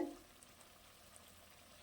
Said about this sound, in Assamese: এয়া চাওক এতিয়া মই মাংসখিনি আলু দুটাৰ সৈতে ইয়াতে ধুনীয়াকৈ অকণমান আমি ভাজি ল'ম